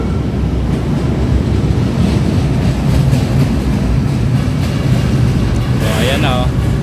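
A Manila LRT train rolls along from Quirino toward Buendia, a loud, continuous rumble of wheels and car noise heard from inside, with a short squeal near the end.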